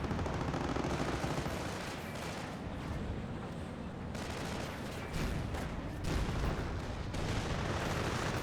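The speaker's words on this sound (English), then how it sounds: "We are receiving fire!" Continuous, dense battlefield gunfire and explosions from the Company of Heroes 1 video game, with rifle fire and bursts layered into a steady, noisy roar with occasional heavier thumps.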